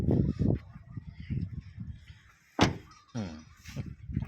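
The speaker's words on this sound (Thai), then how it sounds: "เสียงปิดประตูเจ้าเลย" Car door of a black 2006 Toyota Vigo 3.0 E 4WD Cab pickup shuts with one solid, close thunk, with someone talking before and after.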